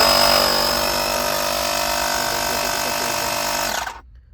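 A Woscher car tyre inflator runs loud and steady with a dense motor whine and buzzing, holding constant for almost four seconds before cutting off into near silence.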